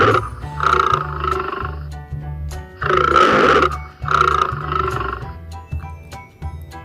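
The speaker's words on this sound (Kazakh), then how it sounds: "арыстан," A lion roars in three strong bursts, rough and rumbling, set over a steady rhythmic ticking beat.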